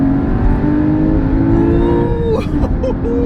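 A 2016 Porsche Cayman GT4 engine revs hard and high, a loud sustained whine climbing in pitch, with a brief shift dip near the end.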